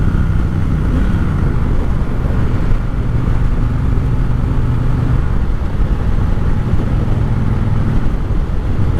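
A 2020 Triumph Bobber Black motorcycle on the road, its engine droning at a loud, steady pitch under constant wind rush, with no talking.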